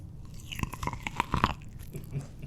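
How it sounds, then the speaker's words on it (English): Someone bites into corn on the cob spread with mayo, giving a close series of soft crunches and wet chewing sounds over a faint background. "It's, I doubt, gonna make any noise because it's a freaking corn on the cob."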